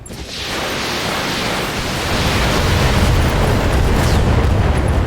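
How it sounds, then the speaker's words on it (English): A mech's ammunition cooks off in the BattleTech video game, a loud sustained roaring explosion that holds steady and grows slightly heavier across several seconds, with no talk over it. "Ammo explosion."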